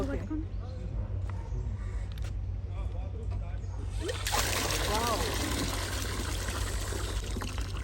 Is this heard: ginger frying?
no